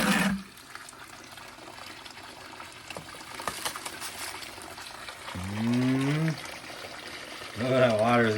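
Water runs and splashes steadily through a gold prospecting sluice fed from a half pail, a continuous wet rush with a voice speaking over parts of it.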